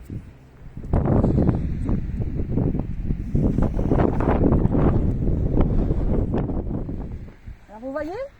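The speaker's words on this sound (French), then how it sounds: "il y a du vent. Désolé pour le bruit." Gusts buffet the microphone at a beach in Santa Pola, Spain, producing loud, continuous low rumbling and thumping that swells and fades over several seconds, with faint talk underneath.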